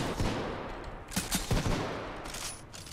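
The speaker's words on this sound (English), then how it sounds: "I think it shoots two at once, because I was like, that's a rapid rate of fire for a grenade launcher" Grenade launcher in Titanfall 2 firing paired shots, a quick cluster of punchy thumping bursts with a rattling tail, loud and close, mixed with game noise and no talk.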